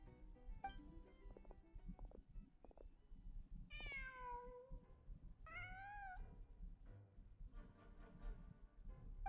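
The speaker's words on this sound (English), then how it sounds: "Huh. Just a cat." Two distinct meows from a cat in the video game Genshin Impact, each a rising then falling wail, cutting through a dense, murmuring in-game ambience of low background noise and scattered clicks.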